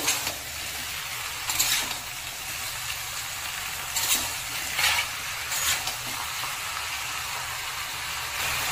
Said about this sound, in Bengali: মাটনটাকে ভালো করে একটু ভাজতে থাকবো, তাহলে পেঁয়াজের ফ্লেভারটা মাটনের মধ্যে খুব সুন্দর আসবে।